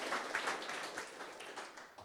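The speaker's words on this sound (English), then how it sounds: "Big round of applause for Simon." Audience applause for Simon at a creator showcase event, a steady wash of many hands clapping throughout, fairly distant and even in loudness.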